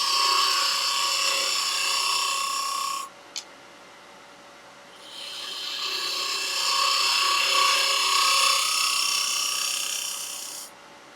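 Woodturning tool hollowing Irish walnut on a lathe: a steady scraping, rasping cut for about three seconds, a brief pause with a small click, then a longer continuous cutting pass that fades out, with no talking.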